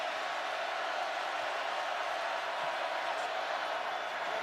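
Steady, dense roar of a large stadium crowd at a 2015 college football game, West Virginia at Oklahoma, filling the whole stretch as an unbroken wash of noise with a commentator's voice likely mixed underneath.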